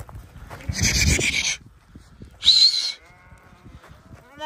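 Sheep from a scattered flock in snowy, foggy mountains bleat in two short, loud calls a moment apart, with quiet rustling and faint background between them.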